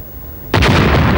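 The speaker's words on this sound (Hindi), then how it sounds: "K7 की गाड़ी एक्सप्लोड हो गई" Car exploding: a sudden loud, close boom erupting after a moment of quieter background rumble, then a sustained roaring blast.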